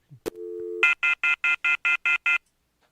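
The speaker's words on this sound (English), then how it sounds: "I heard the phone ring." A telephone gives a short steady tone followed by a rapid run of eight evenly spaced electronic beeps, loud and close with no talk over it.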